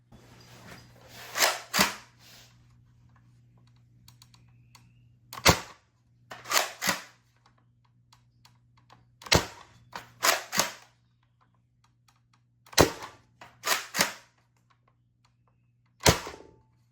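A modded X-Shot Nerf blaster with an upgraded spring fired through a chronograph, about a dozen sharp close snaps and thunks in irregular clusters over a steady low hum, with quiet gaps between shots.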